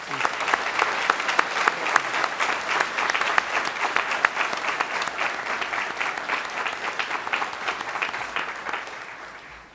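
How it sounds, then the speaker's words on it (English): A graduation ceremony audience claps for the graduates and their families, giving steady, loud, sustained applause from a large crowd that slowly fades at the end. "Please join me in a round of applause for yourselves and also for all the family members at home"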